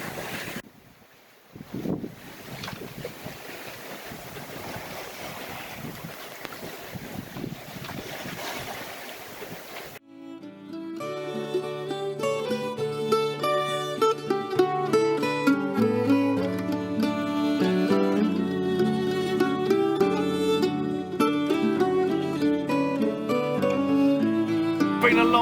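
Wind blows across a sailboat with a colossal sail running downwind at sea, a steady rush of wind noise against the microphone. Partway through, music comes in and takes over.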